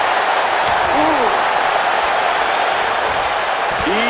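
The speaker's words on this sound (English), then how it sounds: "Listen to this crowd, driving these competitors to leave everything out in the ring." A wrestling arena crowd in WWE 2K25 roars and applauds continuously, a dense, loud wash of cheering behind a commentator's voice.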